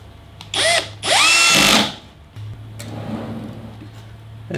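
Cordless drill driving screws into a wooden drawer system for a 4WD, with two short loud whirring bursts, the second longer, over a low steady background hum.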